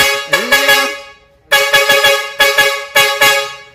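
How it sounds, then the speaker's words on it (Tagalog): A loud truck air horn blasts in several bursts, each a rich, brassy chord with rapid pulsing toots, separated by short silences. "Okay na yan yung air horn project natin sa Travis na Sir Andy."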